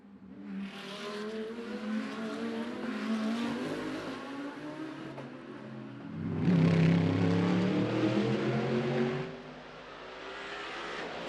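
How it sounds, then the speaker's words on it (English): A GT race car crawls slowly through the Melco hairpin at Macau during practice, its engine droning steadily with a louder, lower-pitched surge partway through as it accelerates away, then settling back to a moderate hum. "'77 Maro Engel car turning through the Melco hairpin very slowly."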